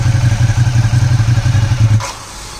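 A Ducati Diavel motorcycle pulls away, its engine throbbing loud and close in a steady pulsing rhythm for about two seconds before cutting off abruptly.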